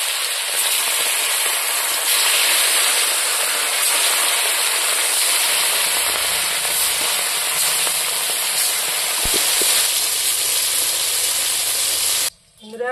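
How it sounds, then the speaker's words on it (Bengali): Fish frying in hot oil sends up a loud, dense, unbroken hiss and spatter that lasts throughout, then cuts off abruptly near the end. "এখন আমি মাছগুলো ভাজে নেব"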